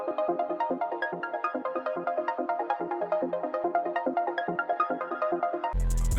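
Bright synth melody from a Spire preset bank in FL Studio, a steady rhythmic pattern of plucked, bell-like notes played loud and alone, cutting off into a brief burst of noise at the end.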